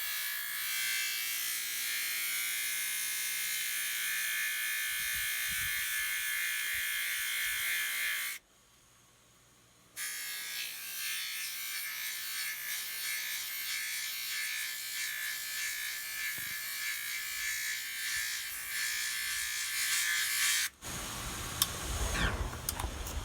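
A lapidary buffer polisher wheel with a burn mark spins with a steady high electric whir while being cleaned and dressed, briefly cutting out before restarting, then a harsher scraping contact near the end.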